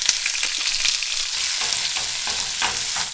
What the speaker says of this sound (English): Then we throw our onions right back into the grease.